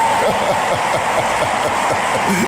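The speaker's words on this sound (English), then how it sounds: "Give a round of applause to that" A round of applause from an audience, with dense continuous clapping and a little cheering, loud and close, cutting off abruptly at the end.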